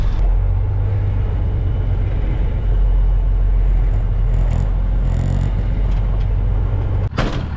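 A cheap used machine bought at auction has its engine started and running, a steady loud close rumble that holds throughout, with a brief sharper clatter near the end.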